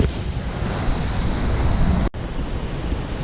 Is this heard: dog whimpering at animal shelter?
no